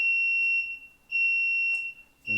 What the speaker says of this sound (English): I don't know whether you can hear that beeping away